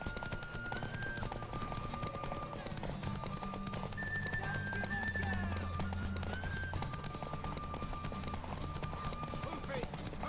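Horse hooves clip-clop at a gallop in The Witcher 3 over a game soundtrack, steady and mid-level, while characters talk throughout.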